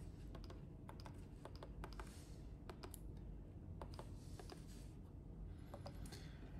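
Keys on a Leica data collector keyboard are pressed in quick, light, irregular clicks. The taps sound faint and close in a quiet room.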